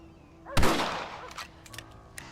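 One loud rifle shot booms with a sharp crack and a long echoing tail in the Red Dead Redemption video game, followed by a few faint clicks and small noises, with no talking.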